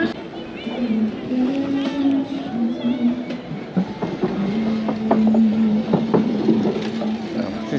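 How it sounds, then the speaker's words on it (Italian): Pinion motor-gearbox unit on a Nicolai e-bike shifting gears by itself, giving a whirring mechanical drive hum with ratcheting clicks, heard up close under a voice talking. "Siamo sulla Nicolai col motore Pinion e adesso cambia da sola."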